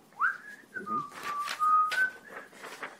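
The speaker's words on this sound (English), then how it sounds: "Whistles as she nudges her bow." Someone whistles a short, wavering tune, sliding up and then holding a few steady notes, with soft breathy rustles in between.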